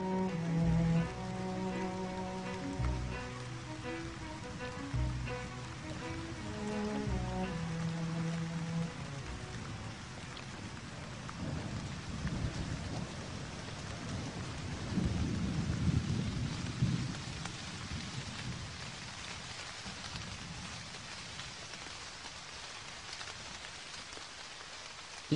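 A heavy rain shower pours steadily over fields, with deep rumbles of thunder rolling in and swelling midway, loud and continuous with no voices, after a soft tonal passage at the start.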